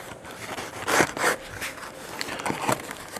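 Kamado grill accessories being unboxed: rustling, rubbing and scraping of packaging in short bursts, close and fairly quiet, with no talking.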